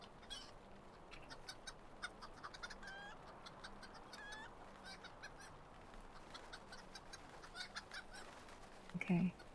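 Chickens in a flock in the Evendim region of Lord of the Rings Online cluck and squawk repeatedly in a busy game setting, moderately loud, with a brief louder burst at the end.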